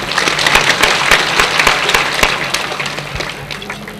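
An audience at a Bengali magic show bursts into loud applause, dense close clapping that swells at first and then slowly thins and fades.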